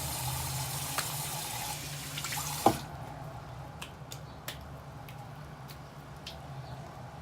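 A water tap runs at a barber shop while rinsing, a soft steady stream over low background hum. It stops abruptly partway through, leaving faint clicks and small knocks in a quieter room.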